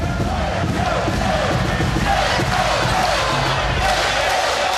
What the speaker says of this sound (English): the crowd starting to feel a little anxiety, turning up the volume knob